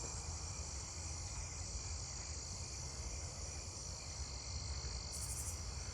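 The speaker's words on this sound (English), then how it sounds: "Southeastern field cricket" Southeastern field cricket chirping steadily among other night insects, a dense continuous trill layered over low frog and insect chorus, moderate and unchanging throughout.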